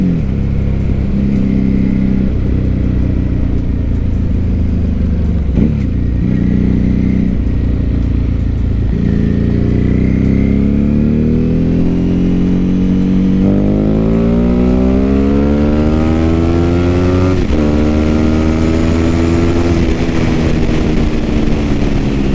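A 2006 Ducati 749 motorcycle being ridden, its engine loud and steady throughout, with rising and falling pitch as it revs up through the gears and accelerates, close to the rider, with no talking.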